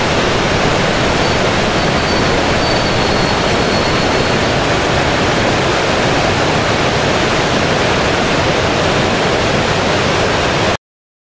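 Floodwater released from the Veedur dam during the December 2015 Pondicherry floods roars in a loud, steady broadband rush with no break, like a torrent close by and no voices.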